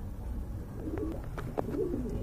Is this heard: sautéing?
no